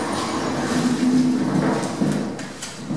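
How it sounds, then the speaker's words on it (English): A large car lift's door slides shut with a loud, close mechanical rumble and a sustained grinding hum, followed by a few clunks and a softer settling sound near the end. "Door closing."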